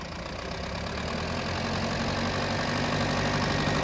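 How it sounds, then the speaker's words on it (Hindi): Diesel engine of a Mahindra Bolero BS4 with a faulty injector starving one cylinder, running and lightly revved while shaking; a steady, close, uneven rumble with no voices. "तो देख सकते हैं फर्स्ट क्लास गाड़ी रेस भी हो रही है और बंद हो गई"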